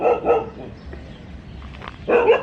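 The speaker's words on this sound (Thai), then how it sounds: "ทำไมถึงเห่าหนูเนาะ" A dog barking on an outdoor walk, two quick close barks at the start and another loud bark near the end, with quieter background between.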